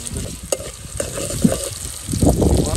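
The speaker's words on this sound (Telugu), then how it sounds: "ఉల్లిపాయలు చక్కగా త్వరగా వేగాలన్నమాట" Onions frying in a pot over an outdoor wood fire while making mutton curry, a steady close sizzle with stirring scrapes and a few sharper clinks, growing louder near the end.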